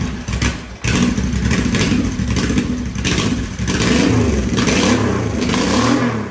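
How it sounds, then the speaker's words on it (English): A custom Honda V-twin motorcycle engine kicks over and then revs repeatedly, loud and close, the throttle rising and falling in rough, throaty surges. "this is his motorcycle, and he's gonna start it up for us"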